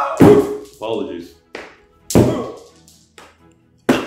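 Stones thrown in a video game land with several hollow thunks and knocks, loud and close, spaced unevenly over about four seconds, with game voice sounds between them.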